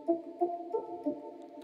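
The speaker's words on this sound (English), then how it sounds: "Almost like an ambient pluck." Soft ambient pluck synth from the Liquid Breath flute preset in Alchemy, with a little reverb, sounding four gentle, evenly spaced plucked notes, quiet and alone.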